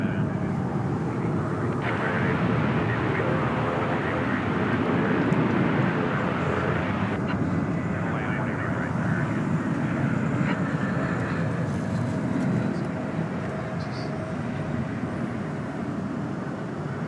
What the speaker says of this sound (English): American Flight 2747 is not what you see there, but it's about what we're about to see. Coming in over the shrubbery.